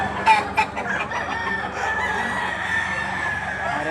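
Chickens at a livestock auction market in Lipa City, Batangas, clucking steadily, with a couple of louder crows early on over a constant busy background.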